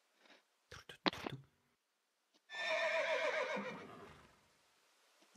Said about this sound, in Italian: I cavalli con le loro armature